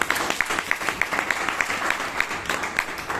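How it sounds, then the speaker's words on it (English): Scattered hand claps from a small Toastmasters meeting audience in Bangalore patter along fairly evenly, a few individual claps standing out near the mic over a hushed room. "I think he deserves a round of applause once."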